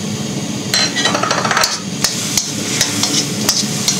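Lamb or beef kidneys being stirred in a pan with soy sauce, red pepper and cumin: a spoon scraping and clanking against metal in irregular sharp knocks over a soft sizzle.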